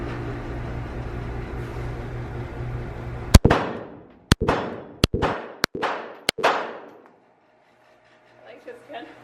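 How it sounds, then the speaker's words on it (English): Pistol shots from a compact concealed-carry handgun, a SIG 365 or Glock 42: six sharp, loud cracks in a quick irregular string, each with a ringing tail, after a stretch of background noise and muffled talk, followed by quiet. "I'm gonna shoot a little bit more"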